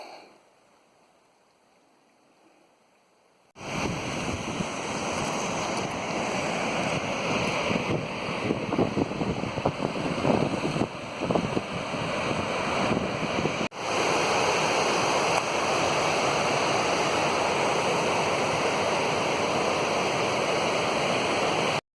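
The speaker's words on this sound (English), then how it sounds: "The Evolution Creek crossing is right down there." A mountain creek on a high trail, Evolution Creek, flows with a loud, steady broadband rush that starts abruptly after a few seconds of near quiet and holds with constant intensity and some wind on the microphone.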